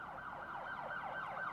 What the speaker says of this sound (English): A single police car flies past them, weaving its way through traffic to some unknown destination.